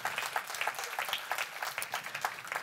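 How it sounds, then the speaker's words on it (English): Faint, distant audience applause for two companies at a microbiome startup pitch day, a quick, continuous flutter of many claps with no voices on top. "let's give them both another round of applause."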